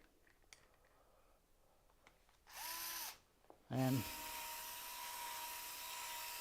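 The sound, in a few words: drill spinning with a sanding pad attached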